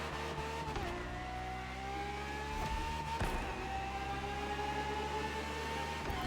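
Ferrari FXXK track-only race car in The Crew Motorfest with its engine holding a loud, steady drone that slowly climbs in pitch, with brief dips as it shifts or backs off, and no talk.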